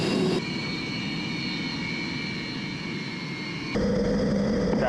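Sukhoi fighter jet engine of the Royal Malaysian Air Force at Gong Kedak air base, a steady loud roaring whine with high tonal hum, dipping slightly then swelling louder near the end, no talk over it.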